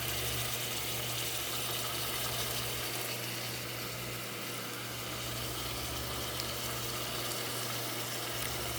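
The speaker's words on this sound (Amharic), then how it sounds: "ቀይ ሽንኩርትና ነጭ ሽንኩርት ጋር ትንሽ ጠበስ እንዲል አደርገዋለሁ" Red onion and garlic frying in a pan, a steady dense sizzle running without pause, with a low constant hum beneath it.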